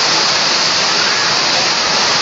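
Heavy rain pours down steadily in Sierra Leone as a dense, loud, unbroken rush, like water falling in a sheet with no pauses.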